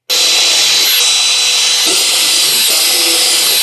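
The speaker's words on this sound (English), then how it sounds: "Grab yourself a 3/8 inch bit and drill all 8 holes all the way through." A loud power drill with a 3/8 inch bit whirs continuously at high speed, its pitch shifting slightly as the bit bores through the material, close up with no talking.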